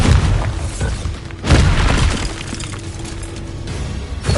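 The Bombarda blasting spell explodes in Hogwarts Legacy: a loud boom with a shattering crash around a second and a half in, set in a dense, rumbling game soundscape that stays loud throughout.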